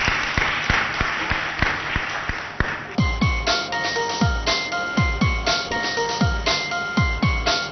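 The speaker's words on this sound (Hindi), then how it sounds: "बहुत जोरदार तालियों से स्वागत कीजिए एस के सुराणा साहब और फारूकी साहब का।" Audience applause at a prize distribution ceremony of a computer quiz mega final, steady clapping from a crowd throughout, with sharp percussive thumps and a faint tonal ring joining midway.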